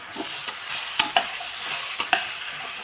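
Spice masala with turmeric, kasuri methi and chili powder is sautéed in a pan for a veg soybean biryani, a soft sizzle broken by a handful of sharp spoon scrapes and stirs in an uneven rhythm.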